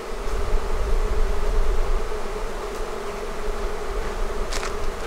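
Honey bees swarming while two beehives are merged into one, a dense, continuous buzzing drone of many insects, close and steady, with occasional louder passes near the ear.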